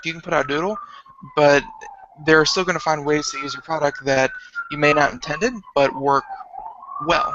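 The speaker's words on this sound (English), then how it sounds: "I apologize for the siren behind me" An emergency vehicle siren wails on a New York street, its rising and falling tone running steadily beneath close, continuous talking by a man on a call.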